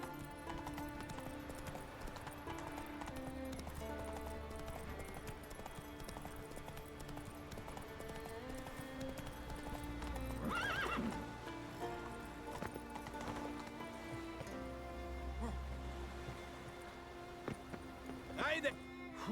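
Roach the horse galloping in The Witcher 3, with rhythmic hoofbeats thudding steadily over game music and ambience, a couple of brief louder swells along the way.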